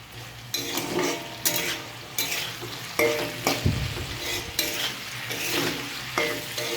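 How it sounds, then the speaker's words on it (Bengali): Potatoes with salt, turmeric and a dried chilli are stirred in hot oil, a soft continuous sizzle broken by repeated scraping strokes of a spatula against the pan, close and steady. "তারপর দিলাম নুন, হলুদ, একটা শুকনো লঙ্কা দিয়ে এবার আমি এটাকে নাড়বো।"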